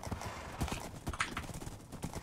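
In the video game Minecraft, a mount that is a donkey rather than a horse gives quick, repeated hoof clip-clops with a brief whinny, fairly quiet and continuous throughout.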